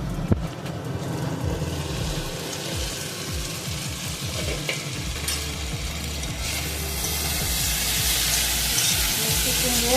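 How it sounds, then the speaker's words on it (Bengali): Sweet pumpkin and potato frying in a pan, a steady close sizzle and crackle running throughout with low rumbling and occasional stirring underneath. "মিষ্টি কুমড়ো আর আলু একটা ভাজা বসে গেছে বন্ধুরা।"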